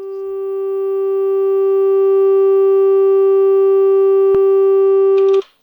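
Ambient synth chord from an Elektron Analog Rytm drum machine, a pure sustained tone with stacked harmonics that swells in and holds steadily, cut by a sharp click near the end before stopping abruptly with a brief rustle.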